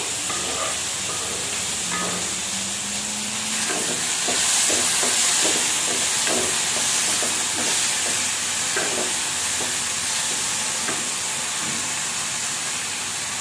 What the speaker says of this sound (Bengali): আর এই কড়াইতে এটা ভাজা হচ্ছে